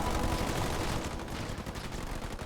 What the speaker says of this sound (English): the Marines are gunning these down very easily